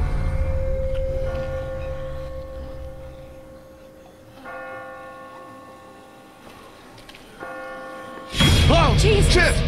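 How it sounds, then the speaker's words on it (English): Church bells ring in The Walking Dead video game, with sustained tolling strikes that layer over each other and linger, until a loud burst of noise and shouting ends it. "I just got spooked by those bells"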